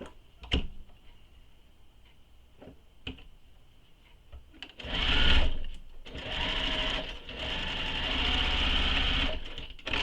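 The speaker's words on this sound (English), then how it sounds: "Sew across that bottom." A sewing machine runs in bursts across the bottom of a fabric backpack, its fast rattling stitch close and clear, stopping and restarting after a few light clicks.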